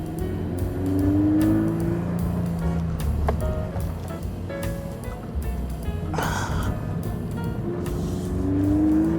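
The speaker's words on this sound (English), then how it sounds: "But the engine is a screamer." A 2021 Subaru BRZ, rear-wheel drive, cruising on the highway at about 110 with its engine held near 3,000 rpm, a steady droning hum under continuous road and wind noise.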